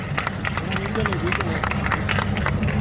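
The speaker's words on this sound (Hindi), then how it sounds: "एक बार जोरदार तालियों के साथ माननीय भूपेंद्र जी का स्वागत और अभिनंदन करिए" An audience claps at a political election rally, steady dense applause with crowd noise throughout, a voice on the loudspeaker talking over it.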